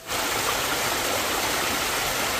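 Heavy water rushing steadily through a mountain village stream, a loud continuous broadband roar close by with no break and no voices.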